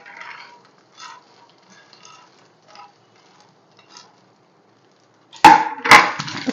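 Fried peanuts go into a blender jar: a few faint, scattered dry clicks and taps, then a sudden loud rattling pour as the nuts tumble in together near the end.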